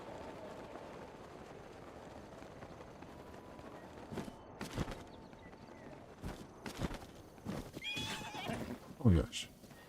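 A horse whinnies in a video game, heard under a person talking over loose hoof clops and a few sharp thuds, the neigh rising near the end.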